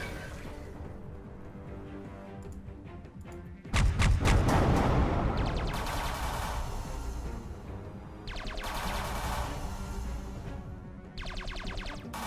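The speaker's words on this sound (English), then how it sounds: "We're gonna use the crippling shot" A crippling shot attack in the space strategy game Halcyon 6 Starbase Commander: a sudden loud blast of rapid, booming gunfire with rattling bursts that fade and return over a rumbling backdrop.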